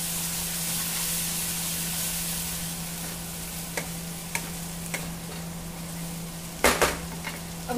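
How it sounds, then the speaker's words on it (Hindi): Tomato paste mixture is stirred in a cooking pan, a soft low sizzle running steadily with a few sharp scrapes and clinks of the spoon against the pan, growing busier near the end. "सबको अच्छे से मिक्स कर लेंगे।"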